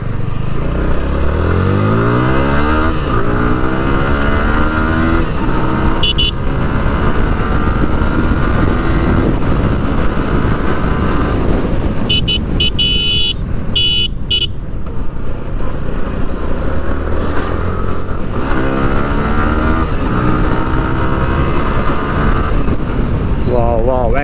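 A Yamaha R15 V4 motorcycle rides along a main road, its engine droning continuously with rising and falling revs as it accelerates and shifts, close and loud with steady road and wind noise throughout.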